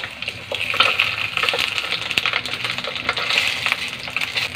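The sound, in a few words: smoked fish (tinapa) frying in a pan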